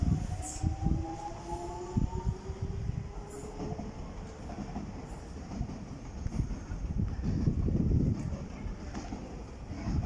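A DLR train departs Greenwich towards Lewisham, its motors whining in rising tones over a low rolling rumble. Clicks and knocks come from the wheels on the track, heard at moderate distance.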